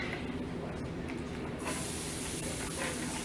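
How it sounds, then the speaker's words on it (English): Onion and garlic fry in a little oil in a Breville Fast Slow Pro on its sauté setting, giving a loud, steady sizzle close by that hisses continuously without talk. "now we're ready to chuck in some onion and garlic into a little bit of oil"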